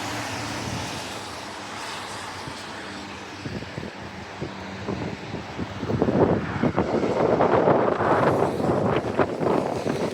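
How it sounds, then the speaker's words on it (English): Wind buffeting a microphone at night at a Perth railway station during a line closure, a steady rumble that swells into louder, gustier bursts in the second half, with no talking. "oh gosh, the wind"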